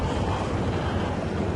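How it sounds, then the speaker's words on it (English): Gale-force wind and driving rain on an exposed hillside roar and buffet the microphone in a dense, continuous rush of noise for a brief moment. "This was gale force winds, driving rain in your face."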